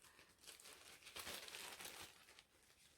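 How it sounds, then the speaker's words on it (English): Crinkly plastic packaging of a gift bag of floss supplies being handled, a continuous dry crackling rustle that swells in the middle and stays close and fairly quiet throughout. "I'm sorry for the crinkling."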